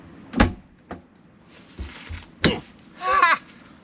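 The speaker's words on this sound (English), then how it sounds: "got the door to latch" A series of clunks and thuds from a cab-over truck's baggage door, ending with a rattling latch mechanism catching; close and fairly loud, with quiet gaps between impacts.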